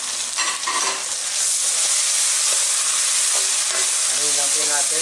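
Tomatoes frying with onion and garlic in a pan, a loud steady hissing sizzle with faint stirring scrapes and a soft voice murmuring beneath.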